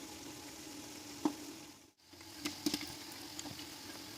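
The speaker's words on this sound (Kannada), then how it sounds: "ಈರುಳ್ಳಿನ ಚೆನ್ನಾಗಿ ಬ್ರೌನ್ ಕಲರ್ ಬರೋವರೆಗೂ ಫ್ರೈ ಮಾಡಬೇಕು." Onions fry in oil for chicken biryani in a low, steady sizzle with a few close clicks of a spoon against the pan and a brief dip in the middle.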